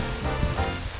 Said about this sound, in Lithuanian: Reikėjo čia to lietaus mum.